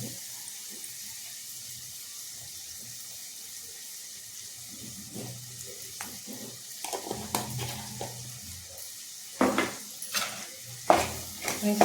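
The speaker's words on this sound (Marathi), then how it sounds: "टोमॅटो छानपैकी परतवून घ्यायचे आणि त्यात आपण मीठ टाकायचं टोमॅटो सॉफ्ट होण्यासाठी." Tomatoes sautéing with salt in a pan for masoor dal amti, a soft low sizzle that turns into louder, irregular clanks and scrapes of stirring toward the end.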